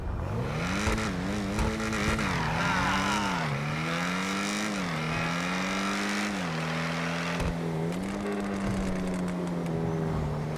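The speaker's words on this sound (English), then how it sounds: "You hear that crackle when you start slowing down?" Engine of a Legendary Motorsport car in the video game GTA 5 Online, a loud continuous drone that rises and falls through repeated revs and gear shifts, with crackles and a brief tire squeal, no talking.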